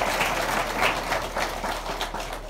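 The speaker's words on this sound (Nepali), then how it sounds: "ताली बजाऊ" A church congregation at a conference in Kathmandu claps together, producing a steady, fairly loud wash of rhythmic handclaps that carries on for the whole moment without any speech over it.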